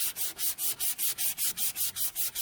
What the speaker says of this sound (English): we'll just sand her down like this